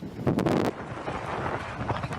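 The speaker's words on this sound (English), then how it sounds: "The first named storm of the year, Henk, brought gusts of up to 100 miles an hour" Strong wind gusts from Storm Henk blowing across Dartmoor, a rough roaring buffet against the microphone, loudest in the first second, then a lower steady rush.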